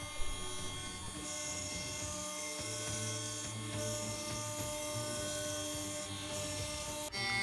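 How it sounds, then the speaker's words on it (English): CNC router with a dust shoe cutting out a profile, a continuous whining motor hum with steady rasping cutting noise and a brief change in load partway through. "After the chamfering is done of the big holes, cutting out the profile."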